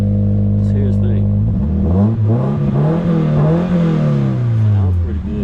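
A Toyota car with a stick-shift setup starts up and revs, its engine rising and falling in pitch as it climbs and settles, loud and close, with a person talking over it.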